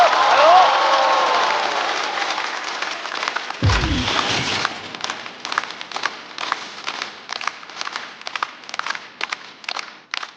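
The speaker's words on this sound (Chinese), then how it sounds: "掌声欢迎阿赛" Audience applause and cheering at a stand-up comedy show, loud and dense at first, then thinning into scattered claps as the crowd settles.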